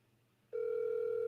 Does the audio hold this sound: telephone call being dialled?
yes